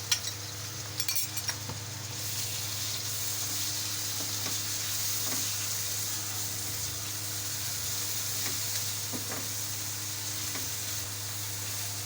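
Onions, ginger-garlic paste, tomatoes and green chilies fry in a pan for saag, giving a steady close sizzle throughout. A few metal clinks and stirring sounds come near the start, and no one speaks.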